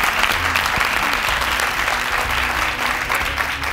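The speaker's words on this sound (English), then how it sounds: "A round of applause." A studio audience gives a round of applause after a televised debate, a dense, continuous burst of clapping that stays loud and even throughout, with no talk over it.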